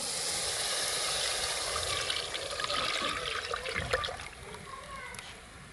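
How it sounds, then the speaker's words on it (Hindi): Water pours and splashes into a pot of pakora kadhi being cooked, a steady trickling stream with some spattering, fairly close. "अब हम इसमें पानी डाल के इसमें फिर और डाल देंगे।"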